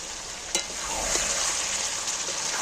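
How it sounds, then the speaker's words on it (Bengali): Fried potatoes being stirred and sautéed into a desi-style chicken curry in a pan, with a loud continuous sizzle and a few sharp scraping clinks of the spoon. "এবার আলুগুলোকে ওর সাথে কষিয়ে নেব।"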